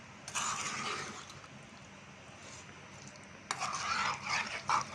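A prawn pickle mixture stirred by hand after the pan is off the heat, with spice powder and oil; two bursts of scraping and mixing sounds, near and moderately loud, separated by a quieter stretch.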